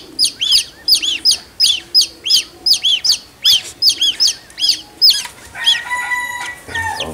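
Chickens on a farm give a steady series of sharp, high, evenly spaced calls, close and loud, then break into a jumbled mix of overlapping cheeps and chirps at the end.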